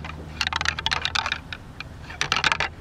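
Deer antlers rattled together by a hunter in a tall tree stand to mimic young bucks fighting: quick clusters of sharp clicking and clattering taps, bursting and pausing, fairly close and moderately loud.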